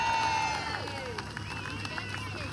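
A Melbourne protest crowd applauds and cheers, a steady wash of clapping with scattered shouts, fairly loud and close throughout the short stretch.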